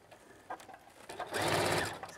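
A sewing machine stitches tulle crinoline onto a skirt lining, a steady rapid whirring burst running for about a second near the end, preceded by faint handling sounds.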